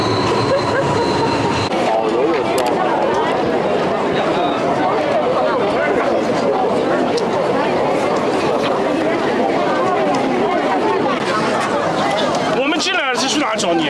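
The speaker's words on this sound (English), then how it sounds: "Wow, there's the train." A Beijing metro train rumbles and clatters along the rails, wheels screeching near the end, while people chatter in the background.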